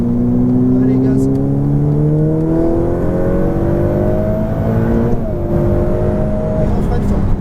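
A Ferrari F8 Tributo engine revs and accelerates steadily, its rising tone climbing through the gears, loud and close throughout.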